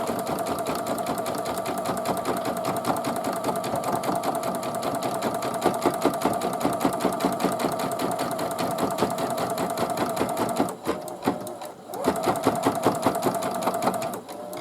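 Sewing machine stitching around an appliqué on a hooded towel, a steady rapid mechanical whir with dense needle clatter held close and loud, briefly pausing near the end before resuming.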